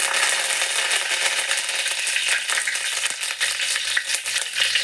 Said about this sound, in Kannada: ಇವಾಗ ನಾನು ಫಸ್ಟಿಗೆ ನಾನಿಲ್ಲಿ ಕರಿಬೇವಿನ ಸೊಪ್ಪನ್ನ